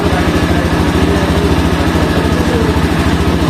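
A newly bought motorcycle idles close by, its engine giving a steady, regular low chugging throb throughout with no talk over it.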